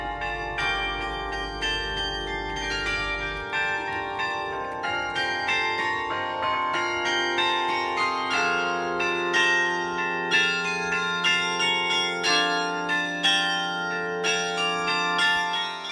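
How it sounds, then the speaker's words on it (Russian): A musical chime of bells rings out from a bell-laden street carriage in Porto at night, bright tuned strikes forming a melodic, overlapping peal that carries steadily throughout with no talking. "И по дороге слышим музыкальный перезвон колоколов."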